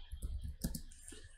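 A few quick mouse clicks during work in Rhino design software, close and crisp, clustered in a brief burst against a quiet background with no talking.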